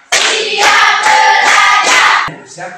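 A class of students claps in unison to a counted rhythm, about five loud, close, evenly spaced bursts of hand claps, with a short pause before softer trailing sounds.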